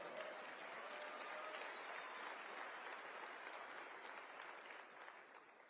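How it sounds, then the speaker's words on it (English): Sustained applause from a large conference audience at AMFEST, a thick even roar of many hands that eases off slightly toward the end. "Y'all can give that a round of applause."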